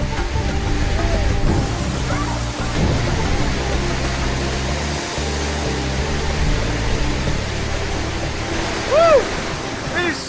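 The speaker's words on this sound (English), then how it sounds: "Forceful underneath that waterfall, but you can't appreciate it until you're actually standing right under it." A forceful waterfall at the headwaters of the Siem Reap River roars in a constant broad rush close by, with faint background chatter and a few brief tonal chirps rising over the steady wash.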